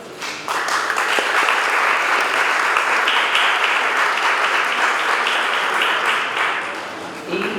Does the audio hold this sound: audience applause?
yes